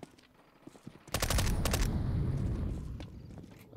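Gunfire in the CS:GO shooter game aimed at a chicken: a quick volley of sharp shots kicks in after a quiet second, followed by a thick, lingering rumble, with scattered clicks and footstep-like taps around it.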